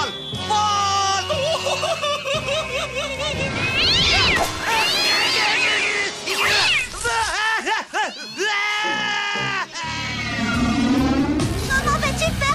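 Cartoon kitten meowing in a series of rising and falling cries, some drawn out into wails, mixed with other cartoon sounds and background music.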